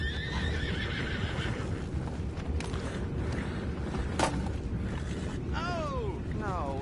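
Horses whinny and neigh several times over a steady ambient bed in Red Dead Redemption 2, with clip-clopping hooves and creaking in the background.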